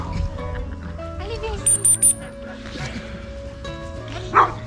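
Several dogs barking at a distance outdoors, a few short yips and barks scattered under a continuous bed of background noise, with faint talk.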